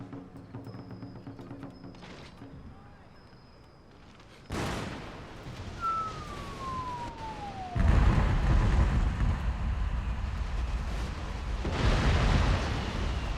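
Rocket launcher volley from Raketenwerfer in a Shogun 2 Total War siege battle: a sudden loud burst followed by a sustained roaring, crackling barrage with a whistling streak, rumbling on over battlefield ambience.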